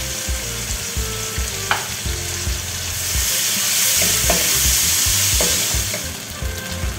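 Chopped raw onions frying in about three tablespoons of hot oil in a wok, a steady loud sizzle with occasional scraping and stirring knocks, close up and with no one talking.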